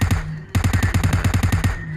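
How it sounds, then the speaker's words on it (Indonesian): Rapid automatic gunfire in the mobile game PUBG Mobile, a short opening burst, a brief pause, then a longer even string of about a dozen loud, close shots. "suara tembak-tembakan langsung aja rame di sini ya"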